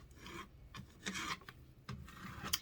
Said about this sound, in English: we're going to take our scraper and scrape it on